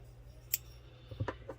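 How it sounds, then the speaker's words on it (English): A few quick, light snips of scissors cutting crochet yarn close by, with small metallic clicks as the blades close, heard alone over a quiet background. "What I do is snip this off"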